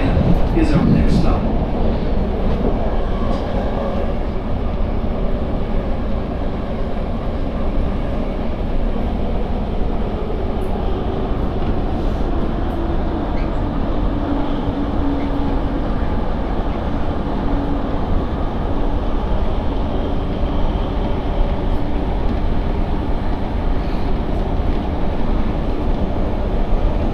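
Steady interior rumble of a moving Metrolink commuter train in Orange County, California, a continuous low roar of wheels on track with faint voices blending into the noise.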